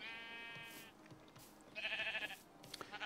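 Sheep bleat in the block-built survival game TerraFirmaCraft, two distinct harmonic bleats about a second apart, fairly close and clear against faint game ambience with no talk.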